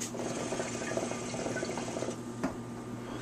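Water bubbles steadily inside a homemade hookah drawn through a single hose, giving a continuous low gurgle with one louder burble near the end.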